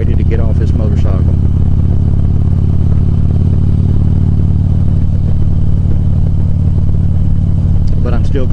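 A Harley-Davidson motorcycle engine drones loudly and steadily while riding, with wind rumble and a voice talking over it.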